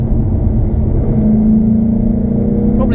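A Ford Mustang GT's naturally aspirated V8 revs as the car accelerates, a steady loud engine rumble with a tone that climbs in pitch and swells over about three seconds, heard from inside the car with no talking.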